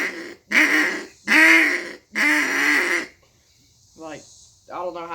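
A duck call is blown in the greeting-call pattern: three long, loud, close quacks in a row, a short pause, then two shorter, softer quacks.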